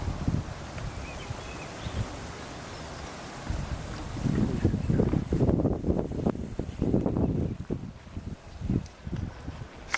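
Wind gusting outdoors in Galilee, a broad rushing roar that swells and buffets the microphone in strong surges through the second half.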